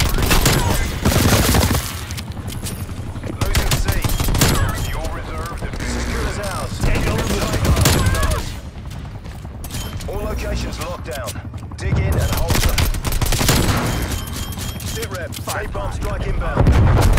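Sentry turret firing in Call of Duty: Black Ops Cold War, dense bursts of gunfire in loud waves amid game effects, with a player talking over the shooting.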